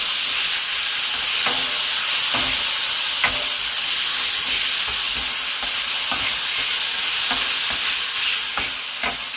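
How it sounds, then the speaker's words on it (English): Lots of garlic stirred and sizzling in a pan, a loud continuous hiss of frying broken by regular clinks and scrapes of a utensil against the pan, no one talking. "And we're going to stir it around just a bit."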